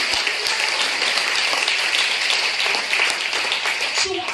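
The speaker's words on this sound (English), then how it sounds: "Clap your hands unto the Lord." A church congregation claps hands together in steady, dense applause for several seconds, loud and continuous, with a faint voice at the very end.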